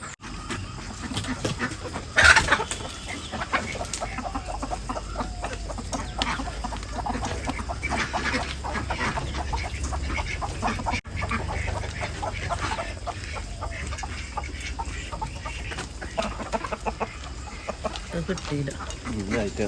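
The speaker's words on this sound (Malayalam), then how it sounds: "നമ്മളെ നിലവിലുള്ള കോഴികൾ ഇപ്പോൾ ഇത്രയാണ് കേട്ടോ." Native country chickens, hens and roosters kept in a backyard flock, cluck intermittently at moderate distance under a steady outdoor background, with a brief louder burst near the start and a person talking at times.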